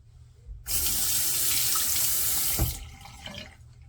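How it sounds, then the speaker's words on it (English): Tap water runs steadily into a sink while shaving, starting abruptly, gushing loud and close for about two seconds, then cutting off to a few faint trailing drips. "It's dripping."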